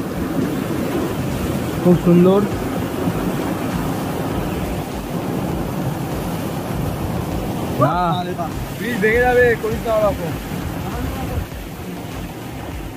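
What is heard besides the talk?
rushing torrent of water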